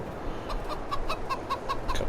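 Chickens newly arrived at a farm, clucking in a short rhythmic series of sharp calls about every fifth of a second, fairly close, over a steady background murmur with no talk.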